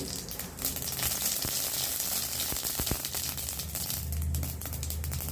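Mustard seeds crackling in a little hot oil in a kadai, a dense close sizzle with sharp scattered pops and crinkly spatters, a low hum rising near the end, no voices.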